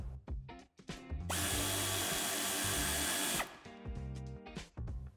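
A power drill runs in a steady, loud whine for about two seconds while a hidden nut is removed near the exhaust trim of a 2020 Audi A4 Allroad, with shorter mechanical clicks and handling noises before and after.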